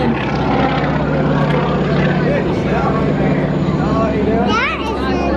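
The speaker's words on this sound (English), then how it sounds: "That is a loud airplane." Loud propeller airplane roaring at an airshow in Grand Junction, Colorado, a continuous close engine drone with a brief pitch sweep near the end, while people talk beneath it.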